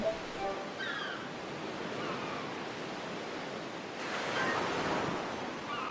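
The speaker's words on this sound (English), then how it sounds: "You can also hear the soothing sound of the ocean, even while saving your game." Ocean surf from the video game Final Fantasy X, a steady soft wash of waves rolling in, swelling somewhat louder near the end.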